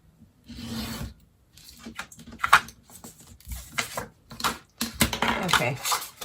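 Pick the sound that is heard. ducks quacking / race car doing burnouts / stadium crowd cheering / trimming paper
trimming paper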